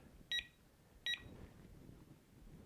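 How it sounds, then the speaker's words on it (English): Two short, bright electronic beeps from a Txi-D device as its button is held down, spaced about three quarters of a second apart, clear over a faint background hum. "if I hold it down for 2 beeps, you get full brightness. 3 beeps,"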